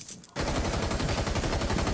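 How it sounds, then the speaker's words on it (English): After a quiet opening, a dense burst of rapid automatic gunfire in a video game starts abruptly and continues loud and unbroken. "What are you shooting at?"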